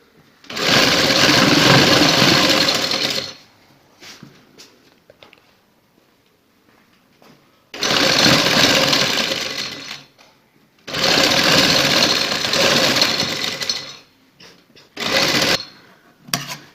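A sewing machine stitches a jointless-lace sleeve in loud, sustained runs of rapid whirring, separated by quiet pauses and small clicks.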